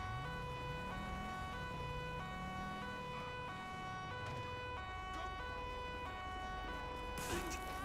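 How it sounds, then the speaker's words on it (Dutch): Ambulance siren from the GTA V LSPDFR police mod, a steady electronic two-tone wail running the whole time alongside rumbling game vehicle engine noise, loud and close with no talking. "En de sirene zou het zijn."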